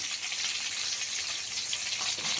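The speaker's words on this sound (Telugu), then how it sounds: "ఇప్పుడు దీంట్లోనే ఒక పెద్ద సైజ్, ఒకటి కాదండి సారీ 2 పెద్ద సైజ్ టమాటోలు" Two large tomatoes frying in a pan with onion and green chillies for a stuffed capsicum masala curry, a steady dense sizzle and hiss heard close and continuous, with no talk.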